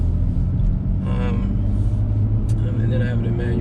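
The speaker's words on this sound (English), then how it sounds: "Oh man, I can hear that burble tune." A 2020 BMW M2 Competition in Sport Plus with a burble exhaust tune, rumbling deep and continuous from inside the cabin, with brief voice sounds over the low drone.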